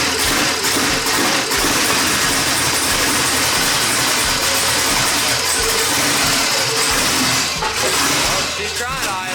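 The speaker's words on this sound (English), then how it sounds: "She's trying to idle." Twin turbo Ford Mustang with tear drop exhaust out of the bumper restarting and struggling to idle, its loud, rough engine rumble wavering close by and running continuously under occasional voices.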